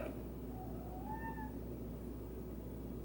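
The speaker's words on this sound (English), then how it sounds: "Sorry if you can hear my cat. She wants to come in." A cat meows to be let in, a drawn-out rising-falling cry heard once, faint and somewhat distant over a steady hum of room noise.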